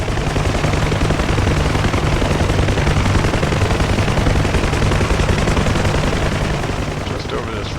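Hydra rockets and gunfire from a UH-1 Huey helicopter in the combat flight game DCS: a loud, dense, continuous roar of rapid fire and rotor drone, with a voice partly buried underneath.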